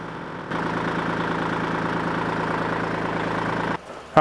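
A tractor engine idles in a steady, even rumble near a welding table build, starting abruptly and cutting off near the end.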